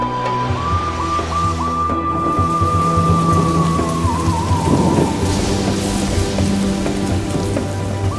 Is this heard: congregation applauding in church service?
no